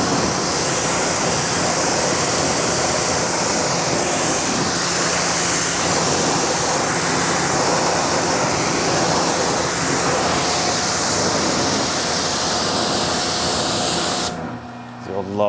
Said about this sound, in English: just washing the GT350, so let's get a little closer view for you guys.